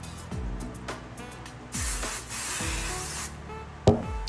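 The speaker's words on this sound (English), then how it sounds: "and then you just finish it off with a little spray." Hairspray sprayed to finish a pixie hairstyle, a couple of soft hissing bursts close by in a quiet room, with light rustling around them.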